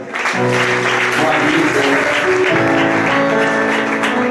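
Congregation at a baptism ceremony applauding loudly and steadily throughout, a dense wash of clapping with a sustained musical drone and faint voices mixed in.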